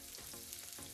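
Mustard seeds and fennel seeds crackle and sizzle in hot oil as a tempering for sambar and chutney, a steady close frying hiss with soft repeated pops and no voices.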